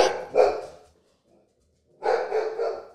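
A dog barks in two bursts, a pair of sharp barks, a pause of near silence, then a longer run of rapid barking, fairly close and loud.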